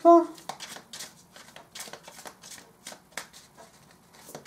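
Tarot cards are shuffled and drawn, giving crisp papery flicks and soft riffling clicks in a close, quiet run while a person talks over them.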